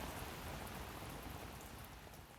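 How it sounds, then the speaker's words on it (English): Steady rain falls on surfaces in a soft, even wash of drops, with no voices and no thunder. "listen to the sound of rain or the sound of whales and drift off into a relaxing slumber"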